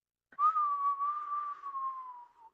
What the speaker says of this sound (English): There was a faint whistling sound that got louder and louder